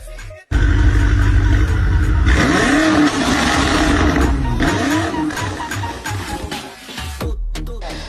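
A BMW 8 Series engine roars and revs hard, loud and close, rising and falling in pitch several times before easing off, with a brief gap of silence at the start.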